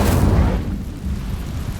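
The Incendio fire spell goes off in Hogwarts Legacy, a loud, close, booming burst that flares at once and then fades into a low, rumbling tail.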